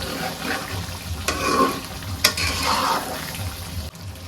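Curry with spices and potatoes fries and is stirred in a pan, with a steady sizzle, scraping stirs and a few sharp clinks of the spoon close by. No one speaks.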